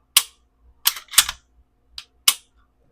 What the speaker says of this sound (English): So that's the trigger and the reset on that.